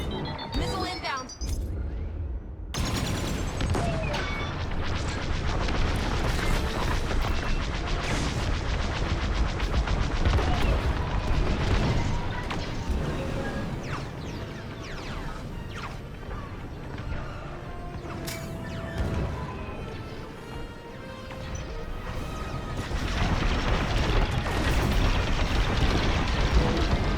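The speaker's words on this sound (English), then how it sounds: "Missile inbound." Missiles and blaster gunfire crash and boom through a Star Wars: Squadrons starfighter dogfight, a loud continuous barrage of rapid shots and explosions with whooshing engine sounds, briefly easing before building again.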